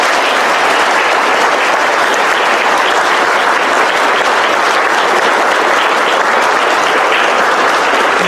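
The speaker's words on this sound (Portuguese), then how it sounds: "vamos bater uma salva de palmas para Nossa Senhora." A church congregation at a Catholic Mass for the Feast of Saint Rita bursts into loud, sustained applause for Our Lady, a thick, continuous roar of many hands that stays at full strength throughout.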